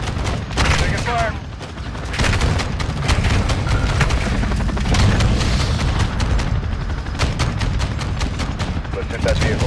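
Co-op combat gunfire in Call of Duty: Modern Warfare 2 (2022) on the High Ground mission, with dense, rapid bursts of shots and heavy booms continuing without a break.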